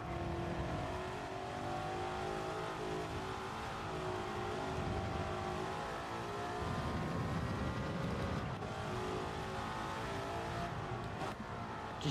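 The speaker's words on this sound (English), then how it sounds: "Just sounds so like genuinely naturally aspirated when you listen to the engine, the way it builds." A naturally aspirated race car engine from a 1955-era car in Gran Turismo 7 revs and builds steadily, a continuous loud engine tone with rising pitch and no speech over it.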